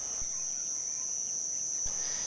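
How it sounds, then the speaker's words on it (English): Crickets at a rainforest campsite on a Ugandan crater rim keep up a steady, high, unbroken chirring, faint and even throughout, with a couple of soft low knocks in the background. "Crickets, birds, and occasionally you can hear the call of a colobus monkey."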